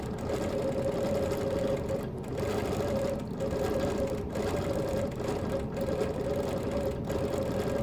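A sewing machine machine-quilts a Baltimore album quilt, its loud, close motor whirring steadily with a rapid stitching rhythm and brief regular dips in pace, with no voices.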